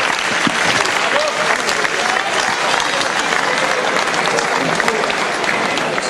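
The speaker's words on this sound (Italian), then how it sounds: "E facciamo un bel applauso e la foto di rito per il nostro Giovanni Sbrissa." A crowd at a football club's season presentation gives a sustained round of applause, dense, loud and steady for several seconds, with murmuring voices mixed into the clapping.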